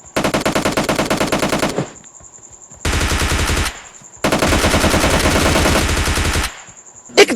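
Sustained automatic gunfire from PUBG Mobile Lite, loud and close, in three long bursts of rapid shots separated by short pauses, with no talking.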